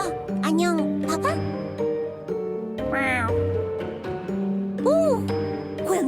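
A cat-like house pet in the mobile game Trickcal Revive gives several high, bending meows in short bursts, bright and close over a soft game music bed.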